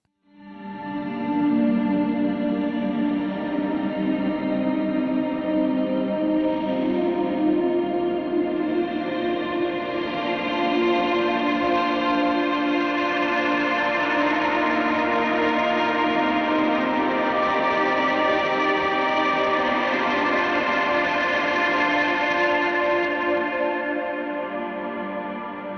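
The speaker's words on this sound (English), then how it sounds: "Ancient Ambient comes from Fade Ambient, so a very similar effect. It has a volume swell ability in it." An ambient electric guitar through a Mercury X Ancient Ambient preset swells up in volume and then sustains as a lush, echoing wash of layered tones, fading gently at the close.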